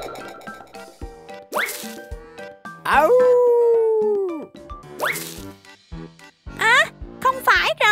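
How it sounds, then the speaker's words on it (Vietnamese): A puppy yips and barks several times, with a long drawn-out howl in the middle, loud and close, mixed with playful cartoon-like sounds. "Đây là tiếng kêu của bạn chó con dễ thương."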